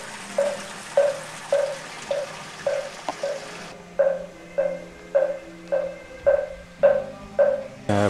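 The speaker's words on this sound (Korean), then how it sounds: "풍경 소리 들리죠. 목탁 소리하고." Regular wooden knocks of a moktak wooden fish at Beopgyesa, a high mountain Buddhist temple on Jirisan, struck about twice a second, loud and close, with faint background sound and no clear chime.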